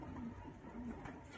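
A racing pigeon, a male bird wearing a DCFC 2022 leg ring, coos softly in a few low, drawn-out notes over steady close background noise.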